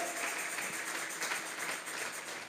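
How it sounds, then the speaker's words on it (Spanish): A church congregation applauds together as an offering of praise, a steady, dense wash of clapping that holds at an even level throughout without any voices. "Vamos a regalarle ofrenda de palmas al Dios de la gloria."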